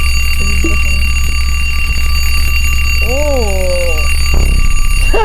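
A video game phone ringtone warbles loudly over a steady high-pitched hum, with a brief voice exclaiming near the start.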